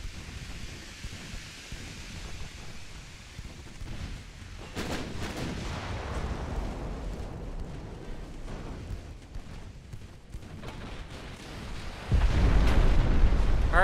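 Naval gunfire and shell hits in the warship game Ultimate Admiral Dreadnoughts: a steady low rumble of battle with deep booming impacts, and a louder, heavier barrage near the end.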